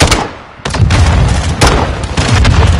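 Explosive booms and heavy gunfire in a Modern Warfare II battle: after a quiet stretch, a sudden loud blast hits, followed by rolling impacts and further sharp bangs close by.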